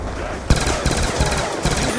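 Rapid bursts of futuristic space-gun fire in Black Ops 2 Zombies, a sharp onset followed by a quick run of repeated shots with dense, bright crackling game noise throughout.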